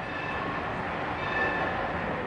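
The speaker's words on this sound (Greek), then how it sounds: "Ξαφνικά άκουσε ένα τρένο να περνάει" A train passes by in a steady, dense rumble that fills the whole clip at an even, fairly loud level, with faint high squealing tones running through it and no voices.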